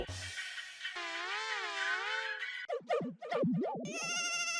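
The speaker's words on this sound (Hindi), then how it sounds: "सुंदर का फोन। उठाओ" A melodic electronic phone ringtone plays loudly, shifting between warbling tones and a brighter repeating chime, with no voices over it.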